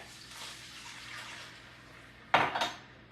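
Liquid pours and splashes into a pot of pumpkin orzo on a kitchen stove, heard as a short, loud splashing burst of about two splashes near the end after quiet kitchen ambience.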